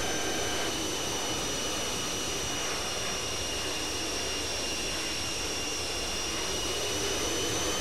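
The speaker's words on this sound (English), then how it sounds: "Cleared for takeoff, runway 36" A small airplane's engine on the runway for takeoff after Oshkosh, a loud, steady continuous drone with high tonal whine throughout, close and unbroken by talk.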